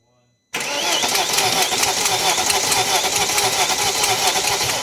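A V8 engine in a BMW E39 cranks and catches after a brief silence, then runs loudly and steadily close by, with a dense, continuous mechanical roar throughout.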